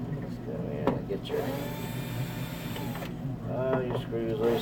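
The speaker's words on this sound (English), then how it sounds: "I recommend these little bitty drills. They're easy to handle." A small handheld drill spins out screws from drawer handles on a piece of furniture, with a couple of short whirring bursts separated by clicks and handling noise, and a voice murmuring faintly underneath.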